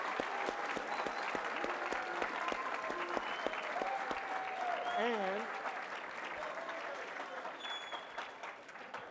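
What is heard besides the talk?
audience applause for Aeneas Williams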